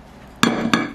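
A heavy stainless steel wok being handled in a home kitchen gives two sharp, close metallic clanks with a short ringing tail.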